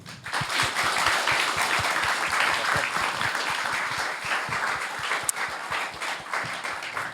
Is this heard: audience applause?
yes